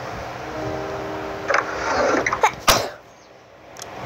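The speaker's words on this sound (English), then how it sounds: "Sorry for the sneeze." A single sharp sneeze bursts out near the mic over low background noise and game sounds, preceded by a brief intake of breath.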